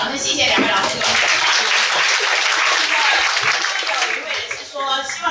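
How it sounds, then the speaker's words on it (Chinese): A lecture audience claps warmly for two lecturers after a talk on Taoist studies. The dense, loud applause fills the hall steadily, then thins briefly near the end. "好，我们再以热烈掌声谢谢两位老师"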